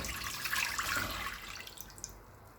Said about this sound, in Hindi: एक बर्तन लेंगे, इसमें 2 गिलास पानी डालेंगे